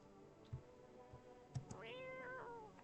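A kitten meows twice in the video game No I'm Not a Human, a short rising and falling cry near and fairly clear over quiet background with a few soft thuds.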